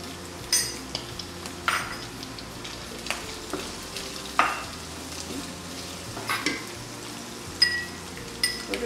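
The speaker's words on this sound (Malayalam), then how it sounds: "ഇത്രയിട്ട് നമുക്ക് നന്നായിട്ട് ഇത് വഴറ്റിയെടുക്കണം." Chilli chicken masala sautéing in a pan with turmeric, chilli and pepper powders, a steady sizzle broken by repeated scrapes and clinks of a spoon stirring against the metal, close and with no talk.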